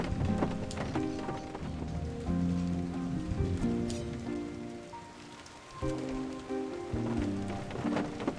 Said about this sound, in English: Nice cozy play where I can stay dry and listen to the rain.